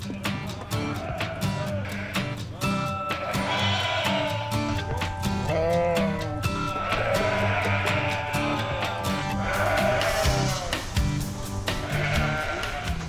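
A flock of sheep and goats at a fair petting zoo bleating continuously, many overlapping wavering calls close by, loud and layered throughout.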